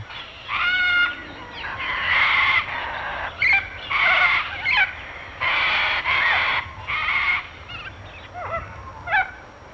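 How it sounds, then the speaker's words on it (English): Raucous cockatoo screeches ring out repeatedly in harsh, drawn-out bursts, loud and close, with short pauses between calls. "cockatoos add their raucous call to the sounds of morning"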